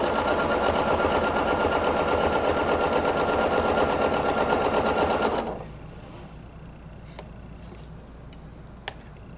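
A sewing machine runs fast and steady, stitching around a quilt block for a table runner, close and loud for about five seconds, then stops, leaving a quiet room with a few faint clicks.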